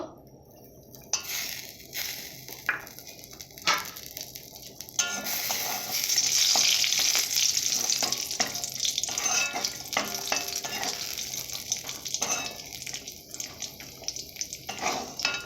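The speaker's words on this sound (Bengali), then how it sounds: "এরপর কাজু আর কিশমিশ হালকা করে ভেজে নেব" Cashews and raisins fry lightly in ghee in a pan, giving a continuous close sizzle that swells in the middle, with scattered clicks and scrapes of stirring throughout.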